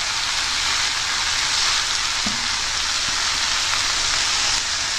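Bottle gourd, potato and soaked masoor lentils fry together with masala in a pan, giving a dense, continuous loud sizzle with an occasional faint scrape of stirring.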